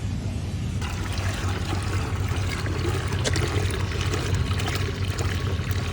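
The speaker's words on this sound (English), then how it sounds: "All right, so now I'm just gonna add water to this." Water added to a pressure washing chemical mix for exterior house washing, a steady close pour and trickle running for several seconds over a low background rumble.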